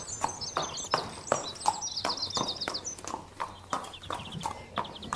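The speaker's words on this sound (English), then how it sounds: "horses were just gearing up for feeding time" Horses at a stable before feeding time stamp and clop in irregular hoof knocks close by, with a bird chirping high above and a low background hum.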